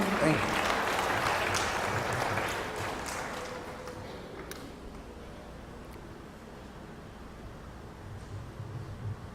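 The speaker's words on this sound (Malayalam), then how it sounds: "കൈയടിച്ച് കർത്താവ് നന്ദി പറയാം." Applause from a retreat audience fills the start, loud and dense, then thins out into scattered clapping and room noise that fades over the remaining seconds.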